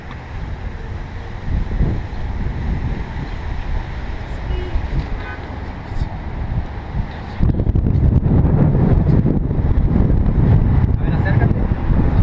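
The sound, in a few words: wind blowing outdoors against microphone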